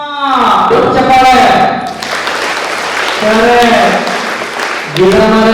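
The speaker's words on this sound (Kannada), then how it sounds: "ಚಪ್ಪಾಳೆ." An audience at a tree-planting campaign event claps briefly in a short burst between stretches of a speaker's voice, which stays prominent around the applause.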